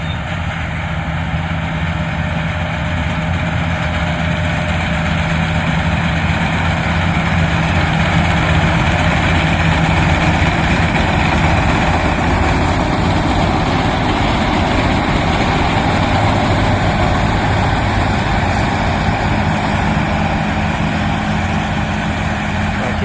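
A combine harvester's heavy diesel engine drones steadily and loudly throughout, a continuous low rumble with no talking.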